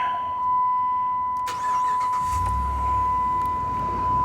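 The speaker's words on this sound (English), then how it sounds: "Let's just go ahead and turn this over" A 2007 Dodge Ram 1500 Hemi 5.7 V8 engine cranks and catches around the midpoint, then settles into a steady low idle, with a constant electronic door-open tone and a few clicks.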